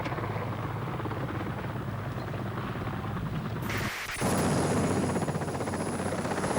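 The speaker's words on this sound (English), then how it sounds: "Helicopters shuttled them into the field hospital at Ajax Bay, from first light to last" A military helicopter flies during the 1982 Falklands War near the Ajax Bay field hospital, a steady close rotor roar that briefly cuts out and returns louder, with a high whine over it.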